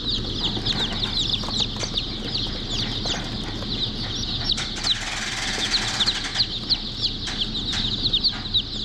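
Baby chicks peep continuously in a barn, a dense chorus of high chirps close by, with occasional knocks and rustling underneath and no talking.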